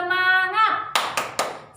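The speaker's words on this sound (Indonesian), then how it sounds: "Tepuk semangat." A spirit clap in an online class: a brief voice opens, then three sharp, loud hand claps follow in quick, even succession.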